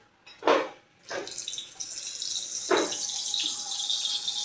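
Spiced pointed gourds (potol) for a yogurt-based doi potol dish are dropped one at a time into hot oil: a few distinct splashy bursts, then a rising, sustained close sizzle that continues to the end.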